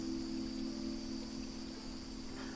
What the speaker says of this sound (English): We got the chill lo-fi radio with the thunder sounds, the rain.